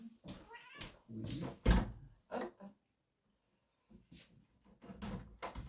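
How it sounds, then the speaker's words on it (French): A house cat wanting to be let outside meows repeatedly at close range, several separate cries with a quiet gap in the middle, with a faint knock or door sound mixed in and no speech. "il y a mon chat qui veut sortir"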